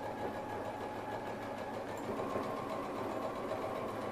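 A sewing machine runs steadily, stitching together fabric squares for a triangle-shaped zip pouch, a continuous mechanical hum at even loudness throughout with no talking.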